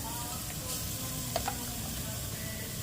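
Onions and garlic frying in a pan for a breakfast tomato stew, a steady soft sizzle filling the background with a couple of faint utensil clicks and stirring scrapes near the middle.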